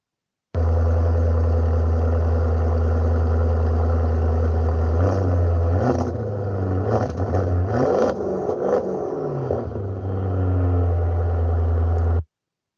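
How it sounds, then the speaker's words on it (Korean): A Maserati's exhaust sounds as a steady, loud engine note that swells into a deeper, rougher revving burst partway through before settling back to a constant drone, with no one speaking. "마세라티 배기음을 잠깐만 들려드릴게요."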